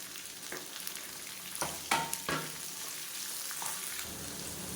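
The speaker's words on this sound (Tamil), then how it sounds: "இப்போ வெங்காயம் லேசாக வதங்க ஆரம்பிச்சிருச்சு" Chopped onions and chayote sauté in a hot pan for a chutney, giving a continuous hissing sizzle with a few sharp clinks and scrapes of a spoon stirring partway through.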